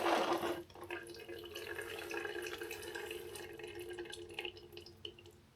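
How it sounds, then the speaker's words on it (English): Brake fluid drips from a hose during a brake line job on a Suzuki DL650 motorcycle in a garage, giving a watery dripping and trickling sound, fairly close, that begins with a louder burst and then continues steadily with occasional individual drops. "Started dripping from the other hose."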